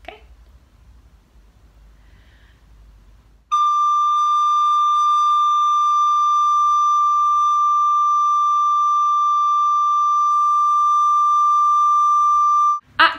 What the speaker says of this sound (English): I want you to really listen to how your recorder is sounding.